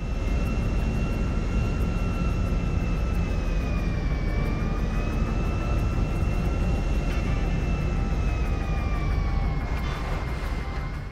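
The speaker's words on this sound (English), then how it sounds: "we're landing momentarily at a very small airfield with a pretty big plane" A large airplane landing on a small airfield in Grand Theft Auto V, its engines giving a constant loud whine and roar with a slowly shifting pitch that dips briefly midway.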